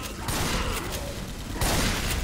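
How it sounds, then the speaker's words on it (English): A minigun in Left 4 Dead 2 fires a dense, continuous stream of shots that swells again near the end, amid other game noise. "Oh, you got a minigun."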